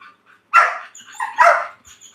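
A working dog at a late-night mill session lets out two loud, close barks with a softer whine-like yip between them, heard alone.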